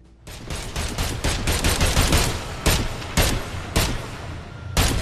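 Rapid gunfire in an Agents of Mayhem cutscene, a dense string of sharp loud shots in quick volleys and then spaced single cracks toward the end, close and with no talking.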